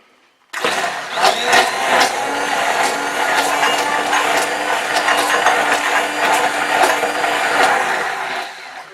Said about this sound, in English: gonna blend it with the stick blender